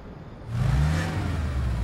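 Cartoon racing cars from Mecard accelerating away at a race start, a quiet moment suddenly giving way to a loud rising engine roar and whir that holds steady.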